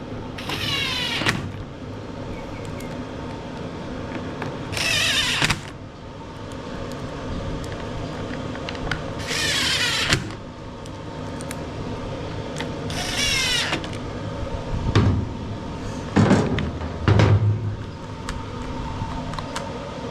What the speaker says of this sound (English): And we'll put the 4 screws back in here.